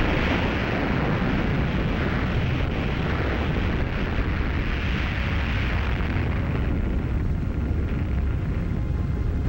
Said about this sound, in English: Operation Crossroads, conducted at Bikini Atoll, detonated 2 bombs.